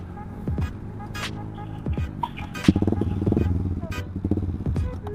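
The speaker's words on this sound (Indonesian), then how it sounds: "Nanti kalian bisa dengerin ya suara pure sound dari knalpot" A motorcycle fitted with a ProLiner T1R short exhaust idles and then revs with a throaty, pulsing rumble that swells and throbs close by, with brief rattling in between.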